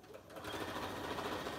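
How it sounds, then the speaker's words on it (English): Sewing machine running steadily while stitching a fabric messenger bag, a continuous close, fairly loud mechanical whir with rapid needle ticks throughout. "you're going to sew that part there, and you're going to also go there and sew that part also"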